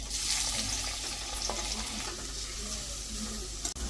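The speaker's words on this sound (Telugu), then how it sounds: "ఆయిల్ వేడైన తర్వాత అందులో ఒక 4 ఆనియన్స్ వేసుకుందాం మనము" Four large cut onions fry in hot oil in a pan, giving a steady, close hissing sizzle with faint clinks, and no talk over it.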